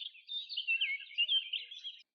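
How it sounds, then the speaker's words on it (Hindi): Cartoon parrot and sparrow chirp in thin, high tweets, a quick run of twittering calls lasting about two seconds against silence. "एक घने जंगल में एक मिट्ठू तोता और टूनी चिड़िया दोनों पेड़ की एक डाली पर बैठे बातें कर रहे थे।"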